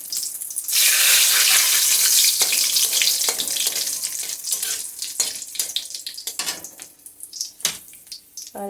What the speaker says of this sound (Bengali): তেজপাতা দিয়ে দিচ্ছি।